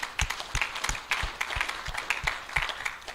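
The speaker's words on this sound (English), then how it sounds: "So we can go ahead and clap for that." Church congregation clapping during a Sunday worship service, a loose crowd of hands with distinct claps scattered through a steady patter, fairly close and moderately loud with no talking.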